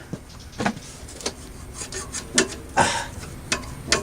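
Alternator being wiggled and pulled out of a 2001 Toyota Camry engine bay: irregular metallic scrapes, rubs and knocks come in short bursts, close by, with no talking.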